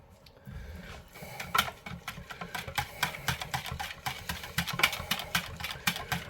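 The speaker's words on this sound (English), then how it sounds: "Now I'm going to whisk all that together" Wet batter ingredients of butter, eggs and buttermilk whisked together in a bowl, giving a steady run of quick, rhythmic clicks and scrapes that grow busier after the first second.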